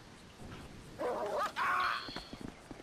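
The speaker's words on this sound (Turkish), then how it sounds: "Şurada köpek varmış ama uzak duralım köpekten." A dog in the video game GTA 5 gives a few short barks and yelps in quick succession, moderately close and clear over low background ambience.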